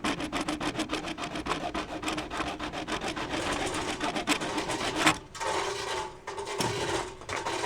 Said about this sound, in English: I'll just use this little hacksaw blade and cut it off